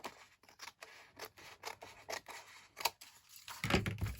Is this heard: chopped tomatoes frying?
no